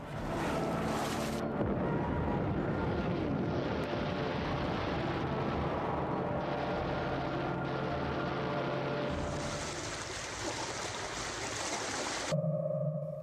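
Explosions and bomb hits on the Japanese aircraft carrier Hiryu at Midway, heard as a continuous loud roar of blasts and rumbling fire with heavy low booms, sustained throughout with a brief pause near the end.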